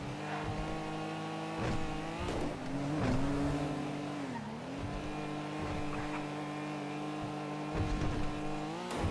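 A car with a steady engine drone holds high speed as it drives along, its tone rising and dipping slightly with occasional whooshing swells; no talking is heard.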